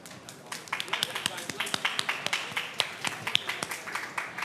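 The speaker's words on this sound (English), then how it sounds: "A huge round of applause for these legends here" Applause for the podium drivers at a Jeddah E-Prix press conference, a small group clapping in quick, fairly sharp, uneven bursts that keep going steadily at moderate loudness in a room, with some voices underneath.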